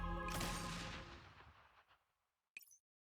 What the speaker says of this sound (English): After a gunshot, the ruins are silent.